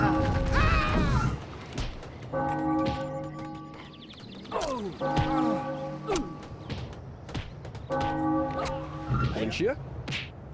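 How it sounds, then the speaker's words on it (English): Bell ringing at a fan convention, repeated bright metallic tones struck in groups of several chimes with sustained ringing tails, mixed with clatter, knocks and crowd noise. "Ring that bell."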